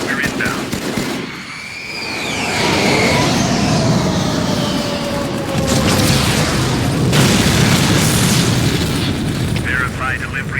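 A heavy ordnance strike in the Halo 2 teaser, a deep, loud, sustained booming roar with rumble and crackle, overlaid with gunfire and voices talking.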